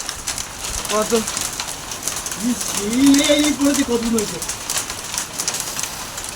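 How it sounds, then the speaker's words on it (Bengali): Hailstones hammer a house roof during a heavy storm with rain and wind, making a dense, continuous rattling patter while a person talks over it nearby. "ওই দেখো আমাদের ঘরে চালে কি অবস্থা, শিলাবৃষ্টি পড়ছে"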